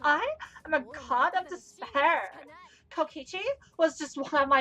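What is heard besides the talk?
No everyday noises stand out.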